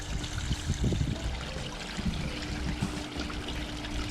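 A homemade backyard stream water feature trickles and burbles steadily, a close, continuous gentle flow of water over stones with no voices.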